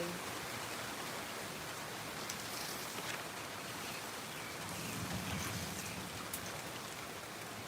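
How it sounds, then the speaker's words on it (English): Steady rainfall pattering on surfaces, a soft continuous hiss with scattered drop taps, heard at low level throughout. "look at the rain. Oh, it's raining."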